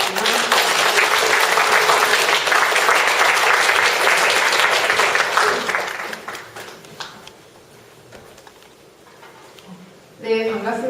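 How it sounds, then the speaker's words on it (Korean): Lecture-hall audience applauds to welcome a speaker at a career-planning talk, a loud sustained wave of clapping that fades out around six seconds, followed by scattered claps and a voice beginning to speak. "뜨거운 박수로 맞이해 주시기 바랍니다"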